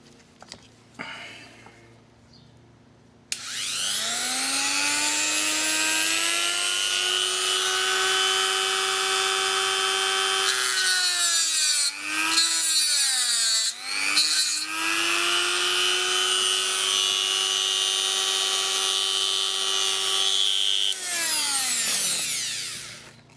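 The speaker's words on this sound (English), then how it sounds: "So we'll hit that now with the Dremel so you guys can see." A Dremel rotary tool cuts model locomotive tender parts from a plastic sprue, spinning up into a loud steady high whine that dips briefly twice as it bites, then winds down after about twenty seconds.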